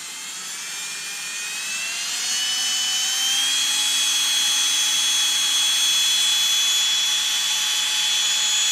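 A Bosch 10.8V cordless multitool motor whines as it spins up to top speed, its high steady tone rising over the first two seconds and then holding loud and constant with no talking.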